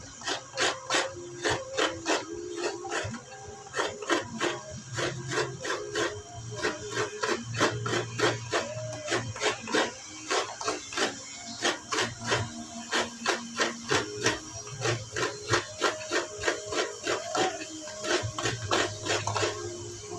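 Coconut grated by hand, a steady loud rasping scrape repeated in fast rhythmic strokes, close up and continuing without speech.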